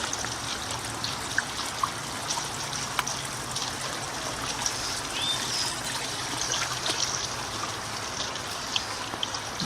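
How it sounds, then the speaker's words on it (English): Water trickles steadily in a small garden water feature, a soft continuous dribble with occasional brighter drips, alone and fairly faint against a broadband outdoor hiss. "Just a small water feature for the sound"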